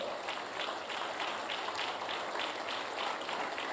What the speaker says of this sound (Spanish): Suelte fuerte ese aplauso